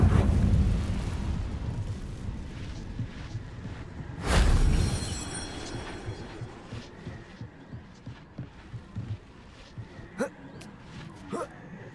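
Incendio fire spell cast in Hogwarts Legacy, a sudden roaring whoosh of flame bursting out midway over a low rumbling game ambience, followed by scattered smaller thumps and crackles.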